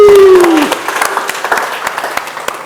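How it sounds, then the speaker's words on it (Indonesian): Studio audience applause at a talk show, a loud burst of clapping that starts as a tone fades out and then continues steadily for a few seconds. "Kita berikan aplaus dong"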